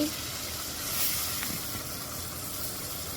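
Tengra fish dropped into spice masala in a pan, a steady broad sizzle and hiss with a brief louder flare at the start, continuing evenly.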